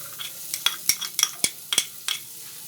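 Finely chopped garlic frying in hot ghee in a pan, with a spoon scraping and stirring in irregular quick strokes over a soft sizzle, close up and fairly quiet.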